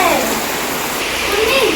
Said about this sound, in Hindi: और ये देखिए बीच में बारिश हो गई।